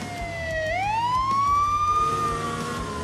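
A toy police car siren wails loudly and close, a single rising electronic tone that climbs and holds, with a low motor hum underneath.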